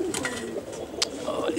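Kasni pigeons cooing at close range, a soft low rolling coo running throughout the short stretch, with a brief sharp click partway through.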